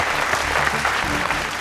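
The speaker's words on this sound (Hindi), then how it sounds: "जोरदार तालियां" A studio audience on a Hindi courtroom comedy show breaks into loud, dense applause, continuous clapping filling the whole moment with a faint voice beneath it.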